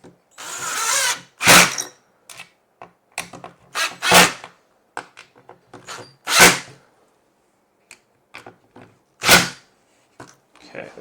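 A power drill drives screws while a plant caddy is assembled, giving several loud, separate bursts of whirring, each about a second long, with quiet gaps and small clicks and handling knocks between them.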